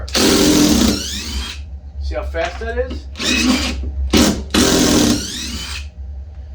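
A DeWalt hammer drill whirs loudly in several bursts with a harsh, rattling hammering edge, a person talking between and over the runs.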